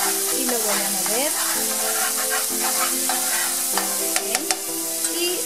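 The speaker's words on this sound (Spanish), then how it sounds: "le voy a poner la cuchara sopera de ajo y lo voy a mover" Garlic fries in hot oil in a pan while a spoon stirs it, giving a steady sizzle with scraping and a few light clicks of the spoon, close by and without talk.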